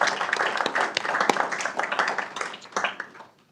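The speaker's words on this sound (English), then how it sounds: "Let's give them a round of applause for all of our Native Americans." People at a city council meeting in Merriam applaud for Native Americans with a brisk, moderately loud burst of clapping from a small group, tapering off at the end.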